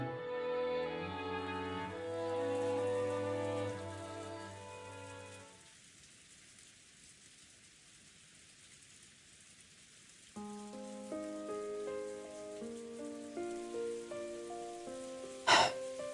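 Rain falls steadily in the Umineko visual novel, a soft hiss under piano music that fades out and then returns, with a sharp burst near the end.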